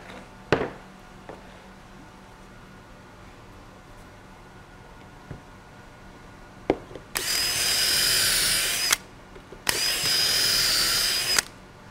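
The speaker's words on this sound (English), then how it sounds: "Now that I've got the pocket holes drilled in my side pieces" A power drill boring pocket holes in Celect wooden window trim boards whines in two loud bursts of about two seconds each, preceded by scattered knocks and clicks of handling the workpiece.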